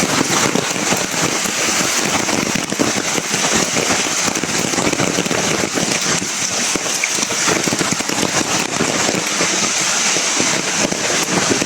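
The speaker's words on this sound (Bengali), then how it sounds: "এখন আমি বৃষ্টির মাঝে আছি, কঠিন বৃষ্টির কোনো থামাথামি নেই, কঠিন বৃষ্টি হইতে আছে।" Heavy, unrelenting rain pouring down outdoors during flooding, a dense continuous roar of drops spattering on surfaces, loud and close throughout with no pauses.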